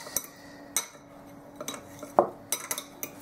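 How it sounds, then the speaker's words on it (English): A fork pressing Om Ali, the Egyptian bread pudding, down in a ramekin, a series of light clinks and taps of metal on ceramic, spaced unevenly and close. "use my fork here to kind of push it down"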